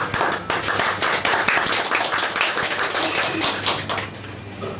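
Steady applause from an audience at an art exhibition opening for a portrait show, dense clapping sustained evenly for several seconds, loud and close with no talk.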